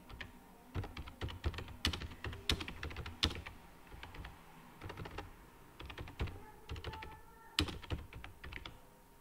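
Fingers typing on a computer keyboard in irregular bursts of sharp, close key clicks, with brief pauses between runs and a few louder strikes standing out.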